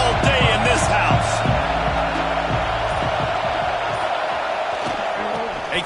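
A stadium crowd in the NCAA 26 college football video game roars continuously and loudly, a dense wash of cheering and shouting with rhythmic accents, sustained throughout.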